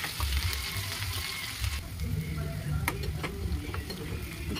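Green chilies fry in hot oil, crackling and spitting close up in a dense continuous sizzle with a few sharper pops.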